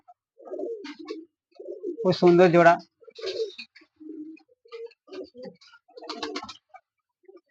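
Pigeons coo softly in a loft, the low burbling calls scattered through the clip beneath someone speaking nearby.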